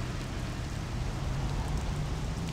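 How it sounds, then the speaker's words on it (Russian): Rain falls steadily in Mafia: The City of Lost Heaven, a dense, even hiss of downpour with no breaks and no voices. "Здесь идет дождь, наверняка прохлада, все дела"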